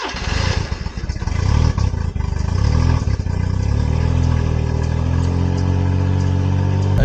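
A mini truck engine fitted with a supercharger and a draw-through carburetor cranks briefly after priming, catches quickly, then settles into a loud, steady close-up idle.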